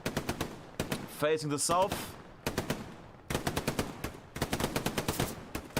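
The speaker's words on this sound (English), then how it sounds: "Currently fighting with the MG." Rapid bursts of machine gun fire in Hell Let Loose during an 18 vs 18 tournament match, loud repeated volleys broken by short pauses, with a voice speaking briefly over the gunfire.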